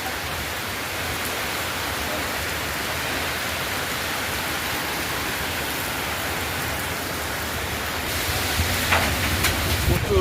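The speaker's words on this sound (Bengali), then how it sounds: "প্রচুর ঝড় হইতেছে, প্রচুর ঝড়। আরে বাপরে, বৃষ্টি তো না, ঝড়ও সাথে।" Heavy rain pouring during a storm, a dense steady roar of rainfall on surfaces, loud and continuous, swelling slightly near the end.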